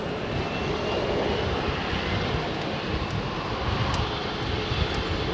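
Jet engines on an aircraft spool up to takeoff thrust, a dense, loud, steady roar of broadband noise that persists throughout with no talking.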